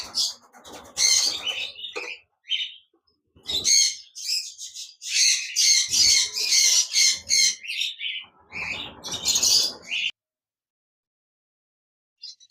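Caged lovebirds at a bird farm squawk and chirp in loud, shrill bursts, with short pauses between flurries, before falling silent at the end.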